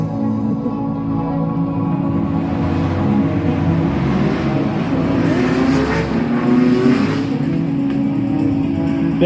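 Drift cars at a Top 32 drift competition in Indy roar continuously with high-revving engines and loud exhaust that rises and falls as they slide through the course, and faint tire noise sits underneath.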